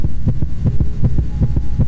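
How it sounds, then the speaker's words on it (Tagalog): A strong heartbeat thuds in a steady lub-dub rhythm, about eight quick beats over a low hum, loud and close with no talking. "ang nagiging tibok ng puso mo ganito"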